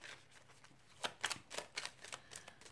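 A deck of laminated cards for an energy card reading is shuffled up close, making a few soft, quick papery flurries of slapping and riffling that last under three seconds, with no voice.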